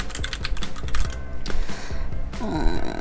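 Rapid clicking of keys typing text on a computer keyboard, a close, irregular patter of taps with a short burst of louder clatter near the end.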